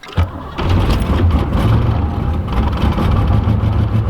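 A car engine with a starter that is acting up is cold-started in well-below-freezing weather, with a brief cranking burst followed by the engine catching and settling into a loud, steady rumbling idle close by with no talking.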